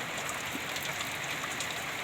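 A dense, steady hiss of heavy rain pouring down, constant and enveloping with no pauses.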